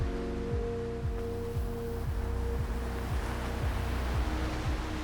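Ocean surf at a break in Scotland keeps up a steady broadband wash, while wind buffets the microphone with low, rhythmic thumps.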